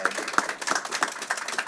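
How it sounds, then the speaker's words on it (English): Audience at a panel discussion applauding, with scattered hand claps in a light, uneven patter at close to moderate distance, fairly thin and brief. "can we give a big round of applause to our panel for their time and expertise today?"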